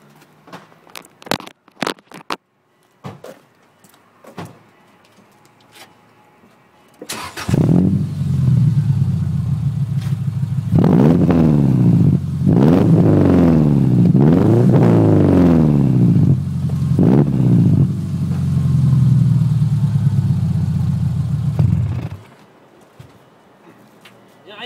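A car fitted with a custom 3.5 inch exhaust pipe starts up and revs, giving a deep, loud, close rumble with several rising and falling throttle blips over a steady idle, after some quiet clatter.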